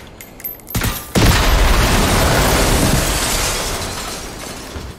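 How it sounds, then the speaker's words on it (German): Explosions in the video game Generation Zero: a sharp blast, then a massive booming detonation with shattering debris that roars loudly for several seconds before slowly fading. "hier ist jetzt so ziemlich alles explodiert, was zu explodieren war"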